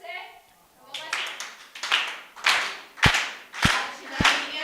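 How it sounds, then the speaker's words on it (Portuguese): Children's ministry workshop audience clapping hands together in a steady rhythm, about one clap per half second, moderately loud, with voices talking and chanting over the claps. "só com as palmas de vocês, pode ser?"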